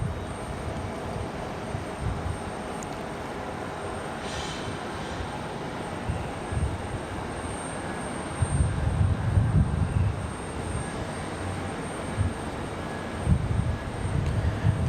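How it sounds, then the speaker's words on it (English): Airbus A350 airliner being pushed back at Raleigh Durham airport, a steady distant engine rumble and airport drone with swelling low roars toward the latter half. "our main focus now is going to be the A350. So here we go. She's already started her pushback."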